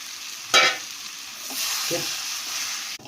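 Crumbled leftover roti (poli) with turmeric and sugar being stirred in a frying pan, with soft scraping, rustling strokes and a faint sizzle, one louder scrape near the start, no talking.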